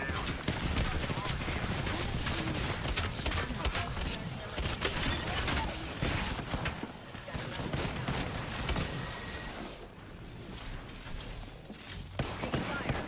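Dense Apex Legends gunfire rattles almost nonstop, loud and close, with rapid bursts and impacts layered over game effects, and a player's voice calling out during the fight.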